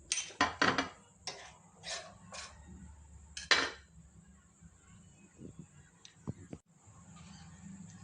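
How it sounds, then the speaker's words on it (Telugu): A knife chopping peeled musk melon into small pieces, a few sharp clustered taps on a board at the start, then sparser cuts and a clink, with quiet gaps between. "దీన్ని చిన్న చిన్న ముక్కలుగా కట్ చేసుకోవాలి"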